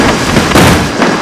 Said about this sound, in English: Did you just make the Tesla explode in front of the container?